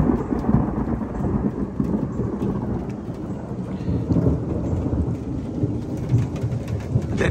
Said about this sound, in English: Well, it is still raining and thundered